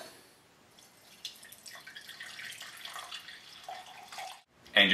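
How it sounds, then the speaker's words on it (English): Cowboy coffee poured from a pot through a strainer, a faint trickling stream with light splashes and drips continuing for several seconds, then a louder burst of pouring at the end. "Pour the coffee through a strainer"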